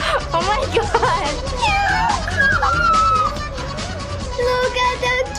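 A cat meows repeatedly in drawn-out, wavering cries that rise and fall like a caterwaul, loud and close, with other voices reacting and talking over parts of it.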